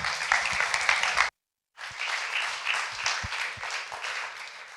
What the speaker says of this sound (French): On peut applaudir Claudia.